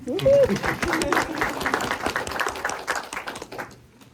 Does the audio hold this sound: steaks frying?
no